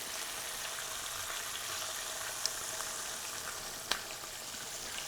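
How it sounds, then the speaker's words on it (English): Green tomato slices sizzle steadily in hot oil in a frying pan, a dense continuous hiss with a couple of brief sharp pops, no talking. "They certainly are sizzling nicely."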